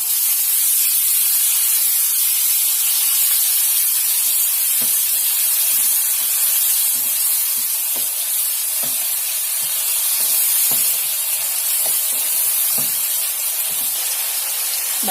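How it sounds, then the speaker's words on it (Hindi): Water hits a hot pan and bursts into a loud, sustained steaming hiss, close and continuous, with faint scrapes and knocks of a utensil underneath. "ये हम थोड़ा सा पानी डालेंगे"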